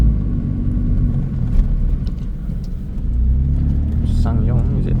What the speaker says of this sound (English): I don't know why this car is so slow.